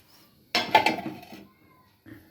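A lid set onto a pot of cauliflower curry gives a short burst of metal clatter and rattling, then dies away, with a small soft knock a moment later.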